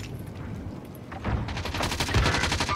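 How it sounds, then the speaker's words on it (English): Gunfire in a multiplayer shooter game builds from scattered distant shots into a dense, loud stream of rapid automatic fire during the second half, with no voices. "Someone's shooting at me."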